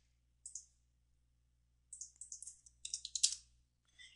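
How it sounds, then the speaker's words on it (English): A computer mouse clicks refresh in Internet Explorer: faint, close, crisp clicks in a short burst and a quick irregular flurry over near-silence, with no talking. "just click refresh."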